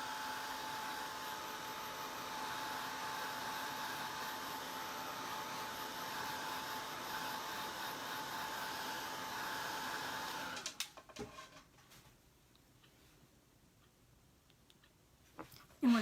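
A hair dryer runs steadily at close range, drying fresh acrylic paint on a pumpkin being painted as a snowman, a constant whooshing blow that cuts off, leaving a few faint handling clicks and knocks.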